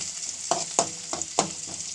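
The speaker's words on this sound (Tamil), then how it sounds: "வெங்காயம் நல்லா நம்மளுக்கு பொன்னிறமாக வதங்கணும்." Onions fry with curry leaves in a pan, a soft sizzle broken by several sharp crackling pops and stirring scrapes at uneven intervals.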